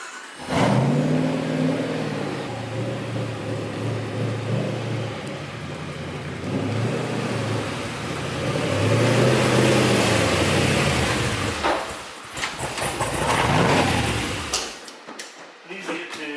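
A Porsche 911 engine running without a muffler revs loudly and repeatedly, rising and falling close by, with raw, unmuffled roar.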